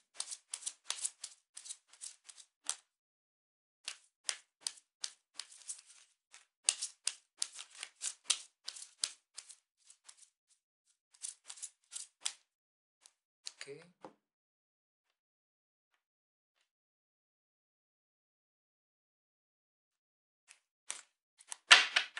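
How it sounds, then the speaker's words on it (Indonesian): A deck of tarot cards is shuffled by hand, close crisp bursts of rapid riffling clicks in irregular spurts with short pauses, a brief low thump near the middle and a final flurry after a long quiet gap. "Jadi sebentar ya, kartunya dikocok dulu sebelum kita mulai."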